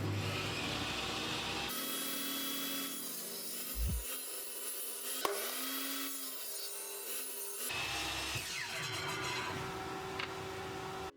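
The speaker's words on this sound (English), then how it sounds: "I have got a small table saw" A small table saw trims wood around an edge, giving a continuous buzzing, rasping cut with shifting pitch that stays fairly quiet throughout and has no talk over it.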